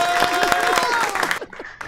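Players on a game voice chat clapping together, a dense burst of applause with scattered cheering that thins out near the end of the short stretch.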